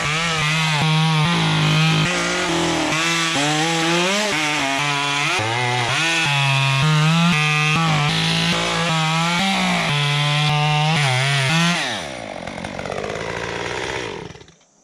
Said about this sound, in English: my chainsaw is not quite big enough to cut this stuff.